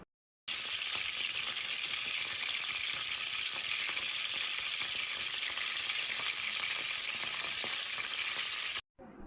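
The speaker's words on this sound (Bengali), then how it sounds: "এখন আমি মাছ ভাজা তেলের মধ্যে পেঁয়াজ কুচি দিয়ে দিলাম এবং এটাকে কিন্তু ভালোভাবে ভেজে নিতে হবে" Chopped onions fry in oil already used for frying rohu fish and give a loud, steady, dense sizzle from close range. It runs unbroken for about eight seconds before cutting off abruptly, with no talking.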